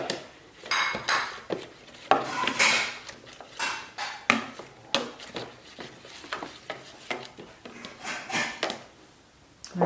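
Clear slime being mixed in a bowl, repeated wet scraping and clinking of a utensil against the bowl in uneven strokes, close and fairly loud, with brief pauses between bursts of stirring.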